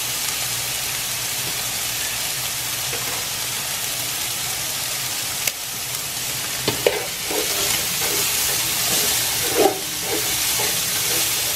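Alligator jambalaya ingredients fry in a pot with a steady, bright sizzle and hiss. Occasional stirring scrapes and clunks come in the second half, with no talking.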